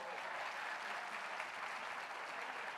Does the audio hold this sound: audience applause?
yes